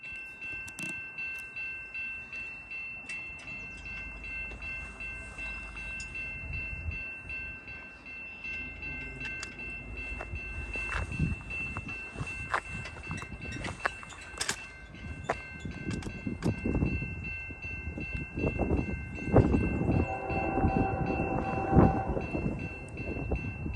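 A long freight train of 136 rail cars rumbles past up close at Pine Orchard, steady rolling clatter and squealing wheels building louder over the second half.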